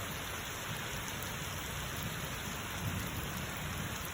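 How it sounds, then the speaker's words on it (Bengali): Constant heavy rain pours down over the Surma River in Sunamganj, Bangladesh, in a dense, even hiss, with a low rumble of thunder rolling beneath it; no voices. "সুনামগঞ্জের সুরমা নদীতে এই মুহূর্তে চলতেছে বৃষ্টি"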